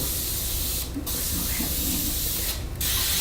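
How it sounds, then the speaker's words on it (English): Two short bursts of hissing baking spray into the corners of a parchment-lined pan, close and crisp, over a loud, steady background noise. "I just spray a very little bit in the corners with the spray"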